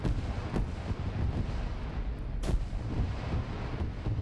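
Gunfire echoes through a World War II video game battle, with distant booming shots and rumbling blasts over a constant low roar and two sharper bursts standing out.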